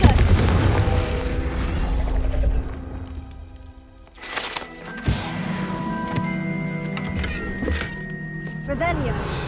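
Confringo fire spell blast in the Hogwarts Legacy video game, heavy booming low-end explosions and thumps layered over game music and effects, with a voice speaking over it.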